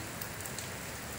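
Rain falls steadily on surfaces, a constant close patter and hiss with no break and no voices.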